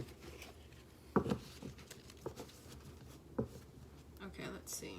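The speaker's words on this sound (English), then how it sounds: "I could shuffle this." A large deck of tarot cards is shuffled by hand, giving soft, uneven papery riffles and taps with a couple of sharper snaps, close by and fairly quiet.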